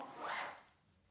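A sleeping bag zipper is pulled once, a soft, quick rasping zip of under a second, faint and close, followed by quiet.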